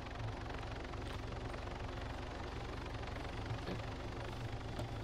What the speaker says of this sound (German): Moment, da ist ein Heli